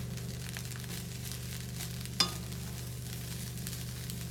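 Egg fried rice with pak choi sizzles steadily in a hot pan while being stirred, a continuous close frying hiss with one sharp scrape or clatter midway.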